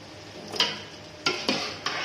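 Mutton simmering in gravy for Arabic-style biryani, with a few quick scraping stirs of a spoon in the pot over a soft background sizzle.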